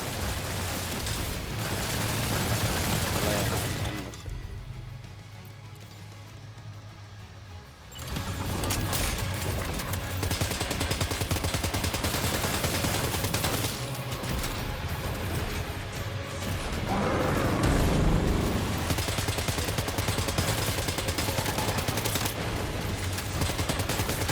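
Gunfire in the video game Death Stranding 2, sustained loud rapid bursts and mechanical clatter that fill most of the stretch, dropping briefly to a quieter lull before resuming.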